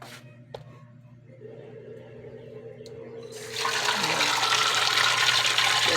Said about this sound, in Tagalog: kusog na kayo mong tubig guys